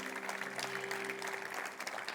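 Church congregation clapping together during a bilingual worship service, a steady dense patter of applause filling the room with no speech over it.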